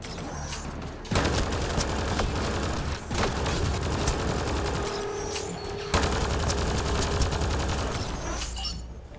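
Submachine gun fire in the video game Mass Effect Andromeda: several rapid bursts of shots with mechanical clatter and impacts, loud and close, with short pauses between bursts.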